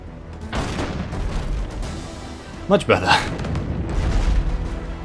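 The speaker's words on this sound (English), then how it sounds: "Maybe I should put the cannon man on the cannons" Cannon fire from a ship battle in the video game Abandon Ship, with a sharp cluster of booming shots bursting midway over a steady background rumble while someone talks briefly.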